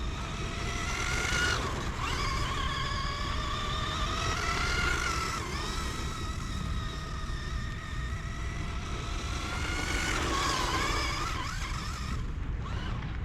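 Kyosho Javelin 4WD RC buggy racing on sand, its electric motor whining in rising and falling pitch sweeps as it accelerates, slows and turns, loud and continuous with no speech.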